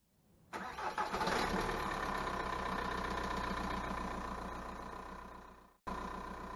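A VW Jetta Mk4 with the ALH engine cranks and catches after a starter rebuild, then settles into a steady, fairly loud idle that runs on with one brief dropout near the end.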